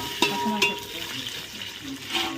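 Onions and green chilli frying in a pan for biryani, a soft steady sizzle with a couple of sharp stirring scrapes and utensil clinks near the start and end, heard close with no talking.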